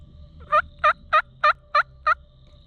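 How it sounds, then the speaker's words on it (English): Wild turkey gobbling on public land during a spring hunt: six evenly spaced, rattling gobbles about a third of a second apart, clear and fairly close over a quiet, low background hum, no voices. "we had heard gobbles everywhere and realized we had birds on their way"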